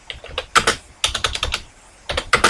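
Typing on a computer keyboard, with close, crisp key clicks in quick bursts separated by brief pauses.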